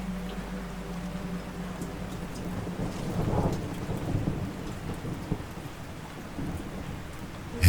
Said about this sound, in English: Head first into the storm.